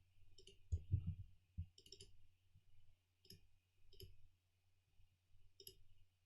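Quiet computer mouse clicks on a plus button while saving a software preset: a handful of small, crisp ticks at irregular intervals against near silence.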